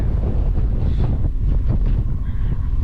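Strong wind buffets the microphone on the summit of Ben Wyvis, Scotland, on an early September morning, a steady loud roar with gusty surges throughout and no voices.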